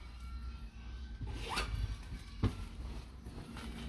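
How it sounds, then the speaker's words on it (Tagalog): Zipper on an online-bought pillow cover pulled open close by: two quick rasping zips, the first longer and the second shorter, over faint rustling handling noise. "Meron siyang zipper."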